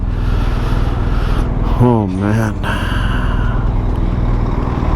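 Traffic noise from a traffic jam, heard from a motorcycle: a constant loud engine and road rumble runs throughout, with a short spoken exclamation in the middle.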